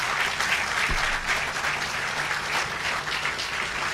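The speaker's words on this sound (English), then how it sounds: "I want to give him a special round of applause right now." Audience applause at an outdoor groundbreaking ceremony for a new New Jersey bridge project, a steady, dense wash of clapping from a sizable crowd lasting throughout.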